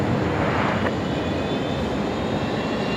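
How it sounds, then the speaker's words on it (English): A Fokker airliner's engine spooling up during startup at Brisbane Airport at night, heard as a continuous broadband roar and whine from moderately far off, with no talking. "I can hear a Fokker on startup."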